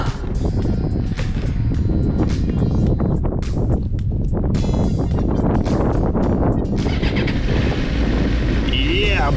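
A Suzuki GSR 600 motorcycle engine runs close by, a loud continuous rumble with uneven throttle pulses and a rising whine near the end, heard with wind buffeting on the microphone.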